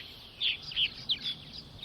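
Purple martins gather at their nesting houses at evening on Long Island, New York: several quick high chirps and warbles in a loose, irregular run, moderately close but fairly soft over a quiet background.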